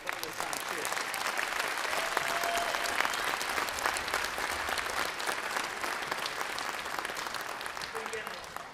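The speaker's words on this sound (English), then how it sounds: "I'd like to give them a round of applause for all their hard work" An audience at a school rhythm concert applauds, a dense, steady clatter of many hands clapping that fills the room and tapers slightly toward the end.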